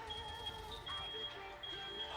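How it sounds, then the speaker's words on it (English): A fire alarm sounds as a thin, high electronic beep, faint and partly continuous across the clip, with muffled background noise and no clear speech. "my dinner bell is a fire alarm"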